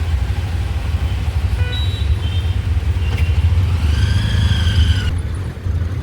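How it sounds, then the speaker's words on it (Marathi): Busy street traffic waiting at a signal in Pune near Deccan Gymkhana on a Saturday holiday, a steady low rumble of idling cars and engines with a few faint horn-like tones and a brief whine rising over it. "चला इथं खूप ट्रॅफिक आहे बघा, सिग्नल पडलाय."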